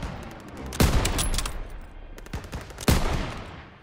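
Call of Duty: WWII battle gunfire, two loud bursts of rapid shots a couple of seconds apart over a rumbling background, no voices.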